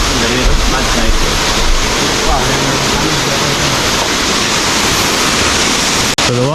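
Kuang Si waterfall in Laos roars as a loud, steady wash of falling water, dense and broadband throughout, with faint voices underneath.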